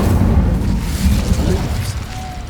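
A burst of fire from the Incendio spell in Hogwarts Legacy, a loud, dense whooshing boom that rolls on for a couple of seconds and then eases off.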